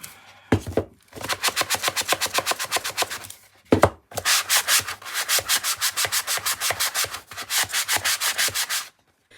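Rhythmic back-and-forth sanding of a wooden box, close and steady, in several bursts of rapid strokes separated by short pauses.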